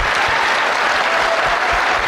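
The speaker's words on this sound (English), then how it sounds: "I kindly ask you a big hand of applause." Audience applause at a BERNINA University 2023 event for the BERNINA of America team, a dense, steady wash of clapping from a large crowd that fills the whole moment without pause.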